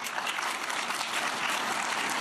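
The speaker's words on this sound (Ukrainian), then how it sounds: "Зустрічали українського президента бурхливими оплесками." Stormy applause greets the Ukrainian president at the Davos forum, a dense, even wash of many hands clapping from a large hall crowd, sustained without a break.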